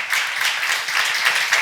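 Congregation clapping steadily at a church seminar, a dense run of rhythmic hand claps from many people close by, sustained without pause.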